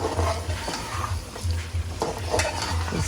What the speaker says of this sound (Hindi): इसको अच्छी तरह मिक्स कर लें।